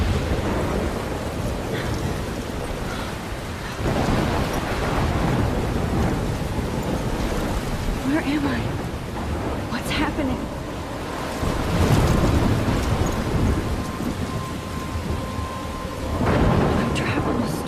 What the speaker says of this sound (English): Waking on a stormy night.